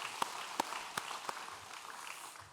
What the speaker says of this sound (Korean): 박수 하나님께 드리겠습니다